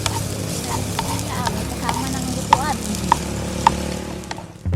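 Garlic and onion frying in oil in a pan for pork adobo, a steady sizzle with a few clinks of a utensil stirring, soft speech in the background.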